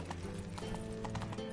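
Horse hooves clip-clopping at a steady trot in The Witcher 3 game, rhythmic close hoofbeats over a constant ambient bed.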